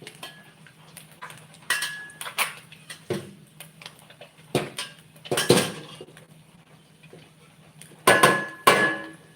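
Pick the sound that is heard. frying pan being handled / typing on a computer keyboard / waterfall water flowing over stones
frying pan being handled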